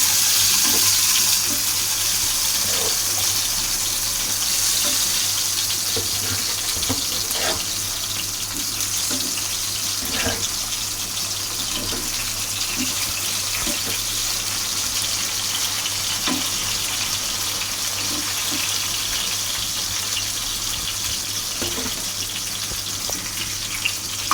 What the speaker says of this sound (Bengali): এই তেলটা গরম হয়ে গেছে, মিষ্টি কুমড়াটা দিয়ে দিই।